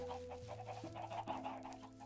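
Chickens cluck softly in a chicken farm video game, a faint run of short rhythmic clucks over a steady low background hum with stepped tones.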